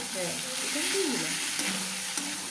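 Meat sizzles and fries in a pan with Kashmiri chili powder and puffed rice, a constant hiss with soft scraping stirs breaking through, and faint talk in the background.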